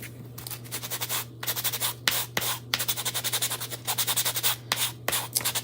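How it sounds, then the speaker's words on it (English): Repeated back-and-forth sanding strokes over chalk paste on a farmhouse tray, with short rhythmic scratchy rubs and brief pauses, close and fairly quiet over a steady low hum. "then we'll sand it down a little bit"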